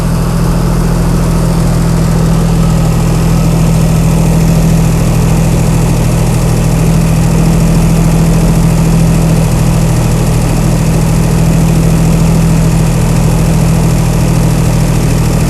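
Chrysler Slant 6 engine on a generator, fitted with Holley Sniper EFI, idling with a steady, even low rumble and hum, loud and close with no break throughout.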